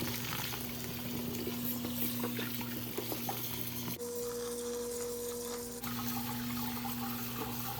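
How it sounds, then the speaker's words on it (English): Cold tap water runs steadily over rice vermicelli noodles in a kitchen sink, a continuous close splashing stream with a brief change in flow midway. "rinse the rice noodle well under cold water."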